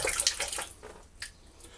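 Running tap water for a traditional wet shave, a steady close splashing flow that is loudest at the start, then thins out, with a few brief spurts.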